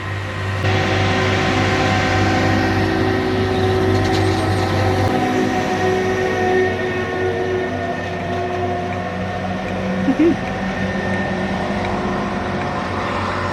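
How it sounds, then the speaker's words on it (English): A Network Rail stone blower train pulls away from a station platform, its diesel engine droning loudly and steadily nearby before the low note drops midway and the machine fades slightly as it moves off. "It's a Network Rail stone blower, which presumably is a machine that blows stone."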